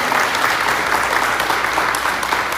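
An audience claps steadily throughout, a dense even patter of many hands at moderate loudness with no pauses.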